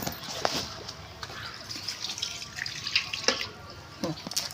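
Water pours into a pan of chicken curry in a home kitchen, a steady splashing, running stream with a few drips and clinks, close by, with faint voices in the background.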